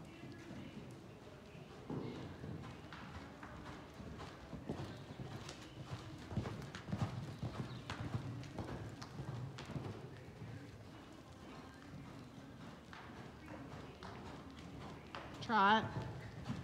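A 15.2-hand Morgan mare canters around an arena, her hoofbeats thudding in a steady rhythm through the clip while a rider or trainer talks over them at moderate distance.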